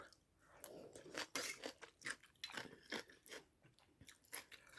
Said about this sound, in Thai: ตำแตงน้ำปลาแกมกระดูกหมู อ่อนๆแซบๆกรุบกรุบ